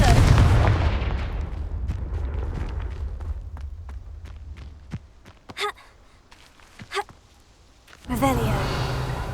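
A Confringo fire spell explosion in Hogwarts Legacy: a loud blast at the start that decays into rumble, followed by scattered clicks and footsteps, then another burst of effects near the end.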